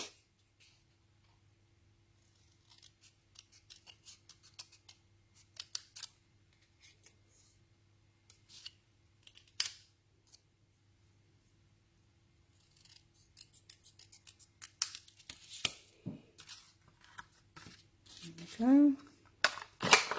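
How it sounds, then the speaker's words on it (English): Scissors snip through paper in quick bursts of crisp cuts, separated by quiet pauses and light handling noises, close up. "I'm just going to trim this down with my scissors"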